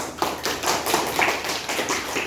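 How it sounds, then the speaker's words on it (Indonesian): A classroom of students claps hands together, a quick run of about a dozen light, fairly even claps, moderately loud and close, with no talking. "Tepuk tangan dulu."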